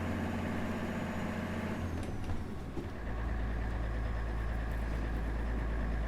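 A 400-horsepower Mercedes Actros MP2 lorry in Euro Truck Simulator 2 labours up a hill, its engine a steady, loud low drone that swells into a heavier, deeper roar partway through as the turbo spools up.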